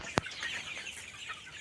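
Chickens on a poultry farm give soft, faint clucks amid a low barn murmur, with one sharp knock early on and another at the close.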